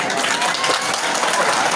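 Students applauding at a high school senior assembly, steady dense clapping from a large crowd filling the whole short stretch, with voices mixed in.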